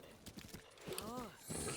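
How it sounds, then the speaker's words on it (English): Hooves clip-clopping from a horse in the video game Zelda: Breath of the Wild, a quick run of light steps followed by a whinny, all under speech. "Just soothe the horse so we can deepen our bond with it."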